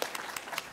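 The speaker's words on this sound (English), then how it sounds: "give her a round of applause." Audience applause at a public panel discussion on Chicago public schools, a brief burst of soft, scattered clapping that sounds fairly distant and faint.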